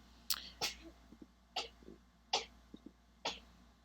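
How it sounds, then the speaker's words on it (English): A young boy sneezes several times in the background of a quiet room: sharp bursts with gasping inhales between, moderately distant and faint, with no talk over them. "that's just my son sneezing in the background"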